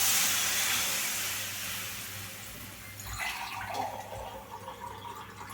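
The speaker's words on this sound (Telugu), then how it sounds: "ఒక గ్లాస్ ఉన్నర వాటర్ పోసుకోవాలండి" Water from a glass poured into a simmering okra and tamarind curry (bendakaya pulusu), a soft close splashing and trickling that swells briefly near the middle over a steady low hiss.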